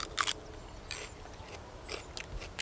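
Someone bites and chews crunchy fresh produce picked straight from an allotment plot, with a sharp crisp bite followed by a few quieter, irregular crunches close to the ear.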